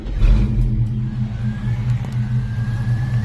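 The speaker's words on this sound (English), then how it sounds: "We can actually fire it up and listen to this engine run." A 1966 Ford Mustang V8 idles loudly and close by, a steady low rumble with a slight throaty pulse and a faint whine on top, alone without talk.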